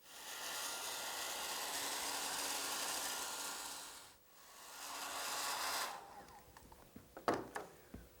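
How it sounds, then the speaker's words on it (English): A hair dryer's steady, loud blowing whir runs for several seconds over wet paint, dips briefly, resumes, then cuts off, leaving a few clicks and taps. "then I use a hair dryer to fix that"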